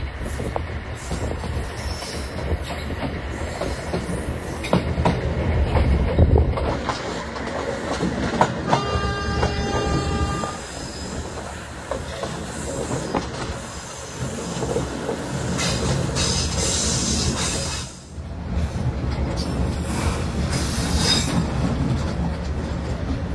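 Banyubiru economy train rolling along rails toward Semarang Tawang, a loud continuous rumble with clickety-clack of wheels, a brief squeal and hiss midway, heard from inside the carriage.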